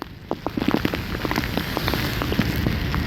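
Heavy rain falls steadily and loudly with scattered drops tapping on a nearby surface, building slightly after the first second, on the Dapoli–Mumbai road in Konkan; no speech.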